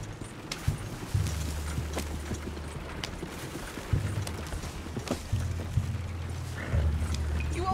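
Horse hooves clip-clop in the Red Dead Redemption 2 video game, a steady trotting beat with heavy low thuds over continuous ambient rumble, no talking.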